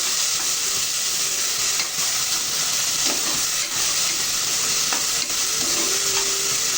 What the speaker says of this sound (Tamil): நல்லா வதங்கட்டும். தக்காளி நல்லா வதங்கணும்.